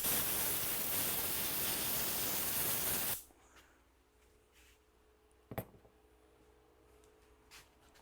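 A loud, steady blast of compressed air hisses through a clogged vacuum for about three seconds and then cuts off abruptly, leaving near silence broken by one brief click.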